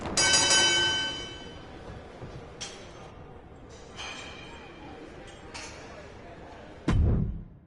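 A ringside bell in the wrestling video game WWE 2K25 rings out clearly at the start, followed by fainter metallic rings and a thud near the end over crowd noise.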